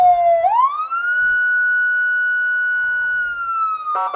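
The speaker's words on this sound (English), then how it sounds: "And that police siren is blaring." A police siren blares loud and close at a baseball game, one long sweeping wail that rises and then holds steady, with no talk over it.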